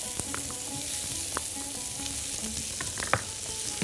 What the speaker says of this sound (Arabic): ادي شوية سمنة بلدي كده، وادي البصل بتاعي